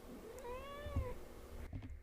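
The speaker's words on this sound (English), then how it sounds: "I don't know if you heard my cat meow in the background" A house cat gives a single drawn-out meow, clear tonal and slightly rising then falling, at moderate distance over quiet room noise, followed by a soft bump and rustle.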